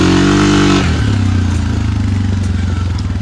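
Suzuki ATV, a KingQuad 500 or QuadRunner 500, at full throttle: a buzzy engine note holds, then shifts and settles into a rougher, pulsing drone as it picks up speed, close and loud.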